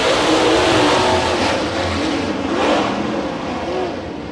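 A pack of race cars roars away at the green flag start of a heat race at Santa Maria Raceway, engines revving hard together, loud, close and continuous.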